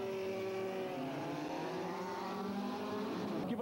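Formula Super 1600 race cars accelerating together off the start line, a dense rising and shifting engine roar from several cars, heard from a distance at low level without talk.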